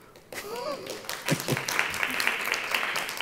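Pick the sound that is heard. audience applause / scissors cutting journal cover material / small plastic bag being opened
audience applause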